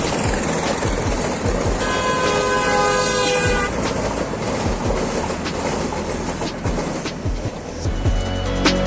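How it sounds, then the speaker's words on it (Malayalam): A Vande Bharat train passes close by at a railway crossing, with a loud sustained rumble and wheel clatter and a long horn blast early on, then rhythmic rail clicks continuing. "വന്ദേ ഭാരത് ട്രെയിനാണ് ഇപ്പോൾ പോയിക്കൊണ്ടിരിക്കുന്നത്."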